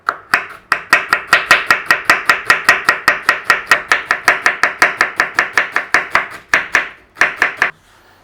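Onion chopped with a knife on a board for a peppercorn sauce makes a quick, even run of about thirty sharp, close chops, followed by a short pause and a few final strokes.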